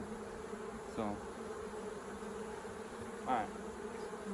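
Honey bees buzzing around an open beehive during hive troubleshooting, a faint steady drone with two brief louder passes of bees flying close by.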